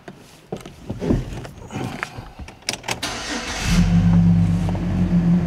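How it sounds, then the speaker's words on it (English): Clicks and rattles, then a Chevrolet Silverado truck's big engine cranks and catches, settling into a loud, deep, rumbling idle. "Sounds like a truck."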